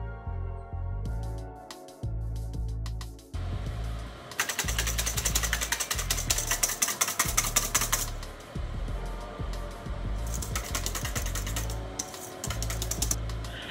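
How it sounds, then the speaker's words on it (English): Egg whites whipped with an electric mixer for a shrimp batter, a loud steady whirring motor with a dense rattling beater texture that comes and goes, heard close and alone. "I'm gonna be doing some egg whites. I'm gonna whip that and then add my cornstarch."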